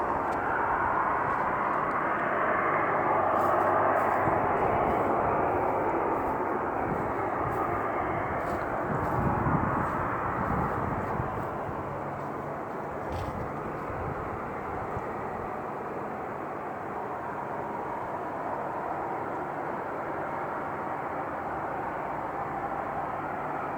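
Loud, steady jet-like engine roar outdoors in Appleton, Wisconsin, with no aircraft in sight; a broad continuous rumble that stays constant without fading or building for the whole stretch.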